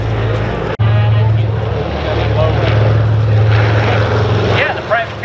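Propeller drone of a B-29 Superfortress bomber turning inbound at an air show, a loud steady low engine hum with a brief dropout near the start, and voices talking over it.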